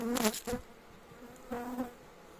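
Honey bees at a hive during a giant hornet attack, buzzing in two short close bursts separated by a quieter pause, with a faint steady hum underneath.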